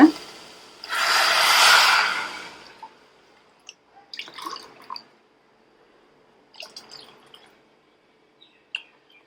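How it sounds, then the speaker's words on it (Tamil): About one litre of water pours into a pot for drumstick-leaf soup in one short, full gush, followed by a few quiet clinks and small splashes; no talking. "போட்டுட்டு நம்ம 1 லிட்டர் தண்ணி விட்டுக்கலாங்க."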